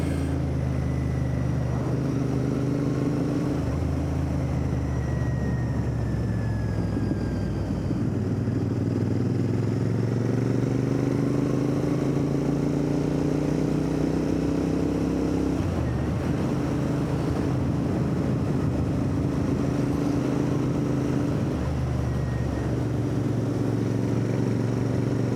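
Royal Enfield Interceptor motorcycle riding along a country road, its engine droning steadily and loud throughout, with pitch rising and falling through gear changes and wind rush; no talking.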